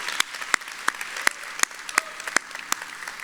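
Scattered, sparse clapping from a small audience at a Houston relaunch event, a handful of distinct sharp claps at irregular intervals over a quiet background.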